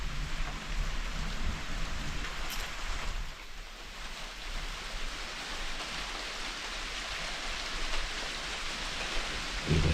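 Thunderstorm with steady heavy rain pouring and hissing throughout, and a low rumble of thunder rolling early on, then the rain carries on alone.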